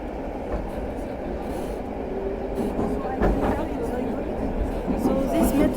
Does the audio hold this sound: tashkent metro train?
yes